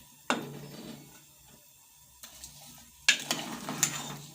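Spices and meat being mixed in a cooking pot give a few distinct bursts of scraping and clattering, with a low sizzle between them and a busier run of stirring strokes near the end.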